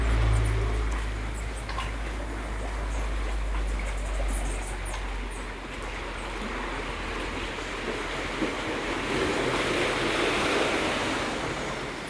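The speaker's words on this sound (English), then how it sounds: "So this is all the West Coast beach here." Ocean waves wash onto a West Coast beach in Barbados, a continuous broad surf roar with some wind rumble on the microphone, steady and moderately distant, with no voices.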